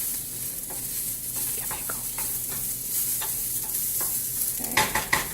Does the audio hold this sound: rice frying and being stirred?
yes